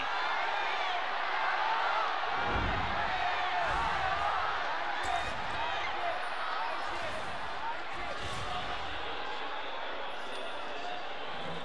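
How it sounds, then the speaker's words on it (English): A large arena crowd at the 2018 LPL Summer Grand Finals League of Legends esports match, iG versus RNG, roars and chants in a steady, dense wash of voices, with no pauses throughout. "The crowd becoming more and more passionate every time they chant."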